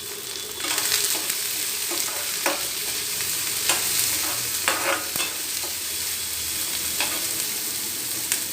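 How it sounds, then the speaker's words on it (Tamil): Green chilies and onions sautéed for paniyaram, sizzling steadily in a pan with repeated scraping stirs of a spoon throughout, close and clear with no talking. "பச்சை மிளகாய், வெங்காயம், நல்லா வதக்கி விட்டுக்கலாம்."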